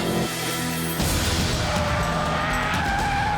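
A Ford Focus driven hard on a timed lap skids with squealing tires and a loud engine roar. The noise swells sharply after a second and then holds a steady, intense rush, with no voices.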